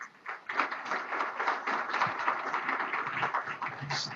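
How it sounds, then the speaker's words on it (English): An audience claps steadily at a legislative breakfast, giving sustained applause for a speaker with no talking over it. "Let's give Thom a round of applause"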